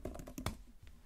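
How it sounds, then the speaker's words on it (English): Rapid keystrokes on an Apple Magic Keyboard form a quick burst of close, soft clicks with small pauses between, alone without talk. "Let's try and type quickly."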